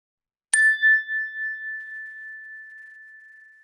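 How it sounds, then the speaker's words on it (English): A meditation chime is struck once, giving a clear bright ring that lingers and slowly fades over several seconds in an otherwise silent room. "We'll begin this meditation like we always do with the ring of the chime"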